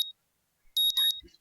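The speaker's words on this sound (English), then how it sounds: "My morning alarm goes off and I flail about uselessly for a while." A morning alarm in the Katawa Shoujo video game sounds as a brief electronic beeping, two short bright bursts in quick succession, clean and alone, after a faint high tone at the start.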